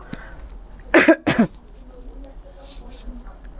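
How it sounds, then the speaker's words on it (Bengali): A woman with a dry throat coughs twice in quick succession, close and loud, against a quiet background. "যখন গলাটা ড্রাই হয়েছে আমার কাশি উঠে তো"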